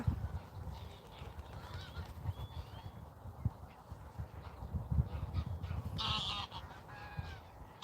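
Geese honk outdoors among other birds, with a few clear calls, the loudest near the end, over a steady rustling background.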